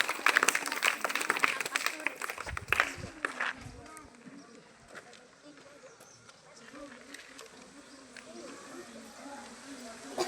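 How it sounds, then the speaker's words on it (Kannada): Clapping from a school audience at a mathematics quiz competition after correct answers, a burst of dense applause in the first seconds that fades into a murmuring crowd and background chatter. "ಬರಲಿ ಚಪ್ಪಾಳೆ"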